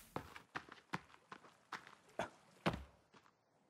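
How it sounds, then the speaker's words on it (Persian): Running footsteps in the survival game The Forest: about nine quick, evenly spaced thuddy steps over roughly three and a half seconds, moderately close, with no talking. "یه صدای دویدنی داشت میومد"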